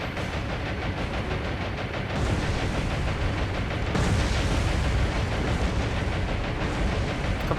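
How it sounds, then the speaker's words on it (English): Torpedo hits exploding on a battleship in the War on the Sea naval combat game, a dense continuous roar of blasts and rumbling booms that swells louder around the middle and stays heavy to the end. "Torpedoes coming into the battleship now."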